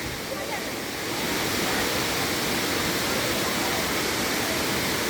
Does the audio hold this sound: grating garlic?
no